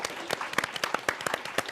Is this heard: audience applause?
yes